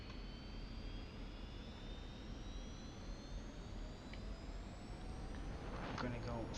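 Jet engine of an F-86 Sabre held at full power in DCS World, a steady loud roar with rising whine tones throughout, building slightly toward the end.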